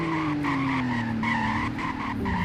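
Sports car in the Roblox game Greenville braking hard from about 208 mph, a loud continuous tire squeal with a gliding whine sliding downward over a steady engine drone, no voice.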